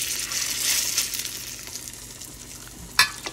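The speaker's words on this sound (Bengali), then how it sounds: "বড়াগুলো ভেজে নিই" Banana stem (thor) fritters frying in hot oil, a steady bright sizzle running throughout, close and alone, with a sharp crackle near the end.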